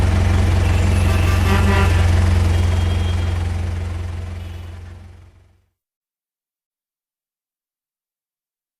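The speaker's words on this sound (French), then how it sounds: "C'est un camion qui est pris dans un embouteillage." A truck stuck in a traffic jam, its engine idling with a deep, steady low rumble and busy mechanical clatter, loud and close, then fading out to silence partway through.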